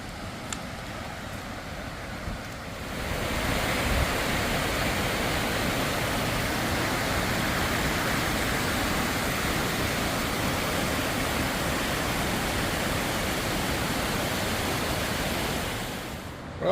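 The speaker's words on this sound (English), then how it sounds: "I'm gonna check out the waterfall." A waterfall at Big Spring Creek roars in a steady, dense rush that swells after a few seconds and holds loud and unbroken, with no voices.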